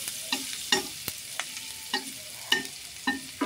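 Onions fry in a pan with a steady hiss and crackle, and a spatula stirs them in regular scraping knocks about twice a second, close and clear, with no voices.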